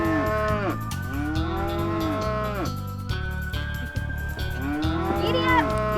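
Several cattle on a western guest ranch moo loudly and close by in long overlapping calls, one after another, with no talk.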